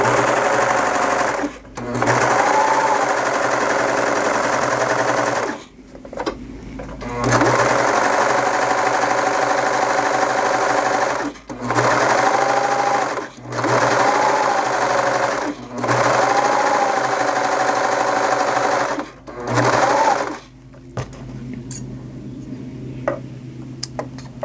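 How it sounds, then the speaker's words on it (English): Serger sewing stretchy swimwear fabric, its fast steady motor whir running in several bursts separated by short pauses, close and loud. "I just give it a very, very little bit of a stretch as it's going through the serger"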